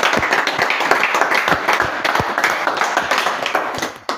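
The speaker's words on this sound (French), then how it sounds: "Applaudissons pour le Seigneur." A church congregation claps for the Lord, a dense run of quick hand claps with sharp individual slaps standing out, steady and close throughout.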